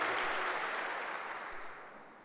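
Congregation applauding during a Sunday church service, a dense burst of clapping that starts full and gradually fades toward the end.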